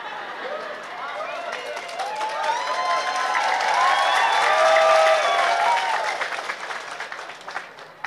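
An audience at a religious gathering breaks into a sustained wave of clapping and cheering, swelling to a peak midway before gradually fading, with voices mixed into the crowd noise.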